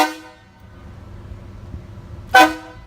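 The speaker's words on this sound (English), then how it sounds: "I'm fixing to get Mark with the air horn" Truck air horn blasted in a parking lot, one short loud honk near the end after a fading earlier tone, with faint background rumble between.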